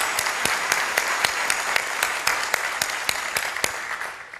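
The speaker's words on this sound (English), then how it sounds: "So please give them a round of applause." Applause at a State of the County address, a crowd clapping steadily with some individual sharp claps standing out, fairly close and continuing until it thins near the end.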